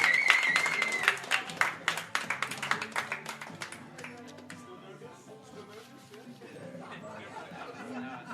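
Audience applause for a student union's newly elected Women's Officer at a winter elections results event: a burst of clapping that thins into scattered claps within a few seconds, then crowd chatter continues on its own.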